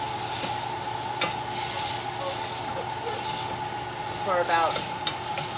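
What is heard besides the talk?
onions sautéing in a pan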